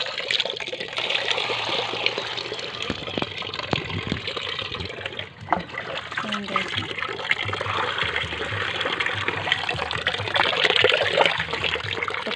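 Water pours steadily into a chickens' drinker nearby, a continuous splashing trickle that keeps going throughout with little change.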